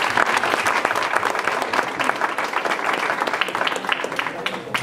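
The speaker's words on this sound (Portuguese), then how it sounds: "Vamos dar um aplauso ao Senhor." A youth church congregation applauds, dense sustained clapping filling the room at close range, with some voices mingled into the crowd noise.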